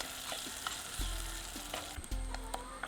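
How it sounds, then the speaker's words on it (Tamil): Fish fries in a pan for village-style Tamil cooking, giving a steady close sizzle with a few small pops and utensil scrapes throughout. "நம்ம மீன் ஃப்ரை பண்ணியாச்சு"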